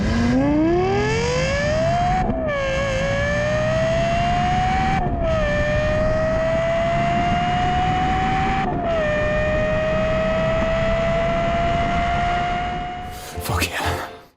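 A Lexus LFA engine screams upward through the revs, its sharp rising wail broken by three quick gear shifts, loud and sustained before easing off at the end.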